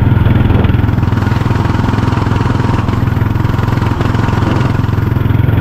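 A small motor engine runs steadily nearby, a loud continuous chugging drone with no pauses, like a motorcycle-driven tricycle cruising along.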